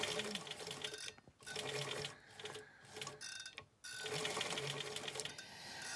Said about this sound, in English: Let's try and sew backwards and forwards a few times.